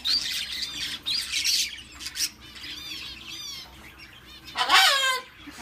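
A colorful talking parrot-type bird gives loud, close squawks in repeated bursts, harsh rasping calls with short gaps and a sharp, strident cry near the end, with no voices.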